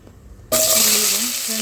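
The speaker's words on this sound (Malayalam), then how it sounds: "വീണ്ടും ഈ ഇലയും ഗ്രാമ്പും ഏലക്കായിലിടുക." Bay leaf, cloves and cardamom dropped into hot oil for a beef curry, a sudden loud burst of sizzling after a quiet moment that then crackles on steadily, close to the pan.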